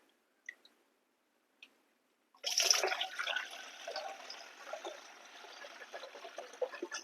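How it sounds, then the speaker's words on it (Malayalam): Liquid pours steadily into an opened pressure sprayer used for farm spraying, a continuous splashing rush that starts suddenly after a few faint clicks and carries on to the end. "ഞാൻ ഇതിന് ഒരു കപ്പാണ് ഒഴിച്ചു കൊടുക്കുന്നത്"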